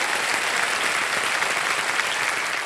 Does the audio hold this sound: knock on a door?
no